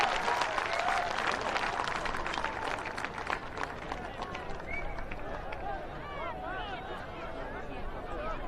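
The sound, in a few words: crowd applause welcoming the Prime Minister at a rally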